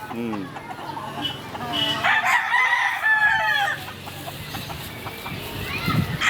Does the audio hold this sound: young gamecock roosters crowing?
yes